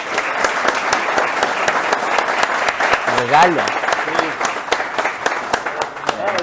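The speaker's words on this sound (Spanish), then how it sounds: "despedimos al doctor con un fuerte aplauso" An academic audience gives a departing doctor a loud, sustained round of applause after a lecture, dense steady clapping that fills the whole stretch while a voice speaks briefly over it.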